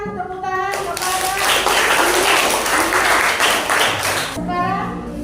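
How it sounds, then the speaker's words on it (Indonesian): Classroom applause as pupils clap together for a group presentation, a dense, steady burst lasting several seconds at close range, with children's voices mixed in at the start and end. "berikan tepuk tangan kepada"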